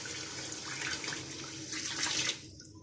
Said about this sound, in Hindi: मैं इसमें डाल दूँगी 1 लीटर पानी।